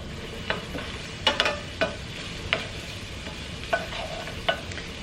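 Garlic frying in about a tablespoon of olive oil, a low steady sizzle punctuated by sharp spatula clicks and scrapes every second or so, close and quiet, without speech.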